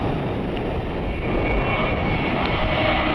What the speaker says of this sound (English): It's a Mad Dog, MD-83. One of the diversions from Miami.